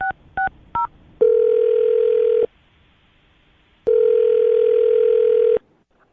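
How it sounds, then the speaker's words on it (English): A telephone dials out: three quick keypad tones, then two long steady ringback tones separated by a silent pause, loud, clean and close with no voices. "I'm going to dial his phone number right now"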